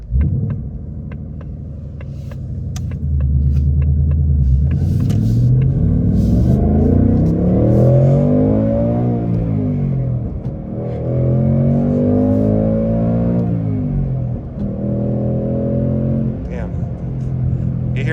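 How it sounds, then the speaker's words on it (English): 2024 Mustang GT with manual gearbox, performance pack and active exhaust on a mountain drive, a deep rumbling V8 that revs up through gears in long surging pulls, with sharp backfire pops as it lets off; someone talks over it. "Hear those backfires on it too."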